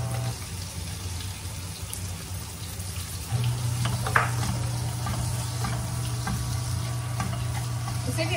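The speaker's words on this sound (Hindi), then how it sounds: "चलिए इसे मिक्स करेंगे और साथ ही इसमें ऐड करेंगे टमाटर" Tomatoes are stirred into a frying spiced masala for egg curry, with a continuous sizzle that grows louder partway through and scattered scraping stir strokes close by.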